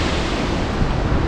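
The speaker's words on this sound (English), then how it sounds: "we're currently at Mooney Falls. It's very beautiful." Mooney Falls at Havasupai pours down as a steady, dense roar of falling water, loud and continuous with no pauses and no voices.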